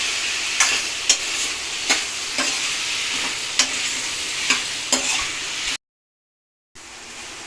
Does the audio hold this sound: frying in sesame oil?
yes